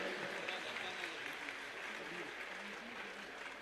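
An audience at a religious discourse gathering claps loudly in steady, continuous applause, a broad wash of hands heard from a middle distance with no break.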